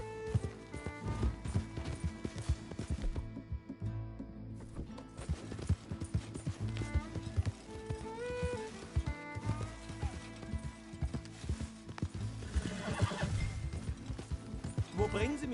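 A horse in the video game Red Dead Redemption 2 gallops in rhythmic hoofbeats, with loud whinnies and neighs over a busy mix of game sound effects and music.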